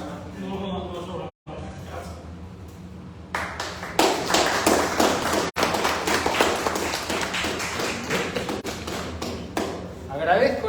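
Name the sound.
audience applause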